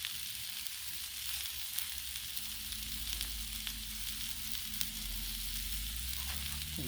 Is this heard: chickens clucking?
no